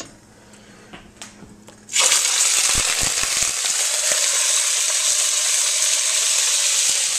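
Peppers hitting a hot oiled pan burst into a loud, steady sizzle after a quiet start, the frying hiss continuing unbroken and close for several seconds.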